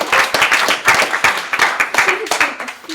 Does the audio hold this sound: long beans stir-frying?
no